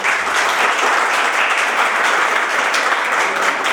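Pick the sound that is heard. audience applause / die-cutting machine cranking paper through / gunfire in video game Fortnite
audience applause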